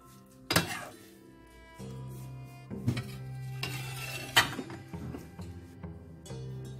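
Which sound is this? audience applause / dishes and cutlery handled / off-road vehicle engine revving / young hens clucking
dishes and cutlery handled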